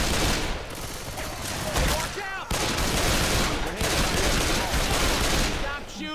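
Dense, continuous gunfire in Left 4 Dead 2 over a bridge, with overlapping rapid shots and bursts of automatic fire, loud and close, broken by a brief pause midway.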